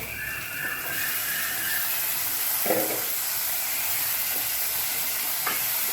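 Onions and tomatoes sauté in a pan for a Tamil urundai kuzhambu, giving a faint, steady sizzling hiss with a few soft stirring clinks.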